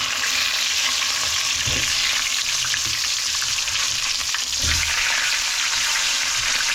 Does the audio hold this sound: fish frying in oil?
yes